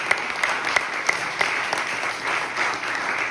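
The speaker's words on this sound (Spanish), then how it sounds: "Dale un fuerte aplauso al Rey de Reyes" A church congregation claps together in praise, a dense steady applause with sharp individual claps standing out, loud and fairly near, lasting only a few seconds.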